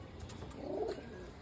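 A single soft pigeon coo rises and falls mid-clip, close by, among pigeons at a sale in Naihati.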